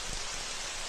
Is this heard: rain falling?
yes